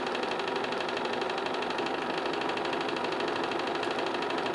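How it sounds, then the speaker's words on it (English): A sewing machine stitches a seam, holding a fast, even mechanical whirr with a rapid needle rhythm throughout, close and steady, with no pauses. "We're going to start to sew. So I'm holding my ends, and it's going to do 5 forwards, automatically 5 back."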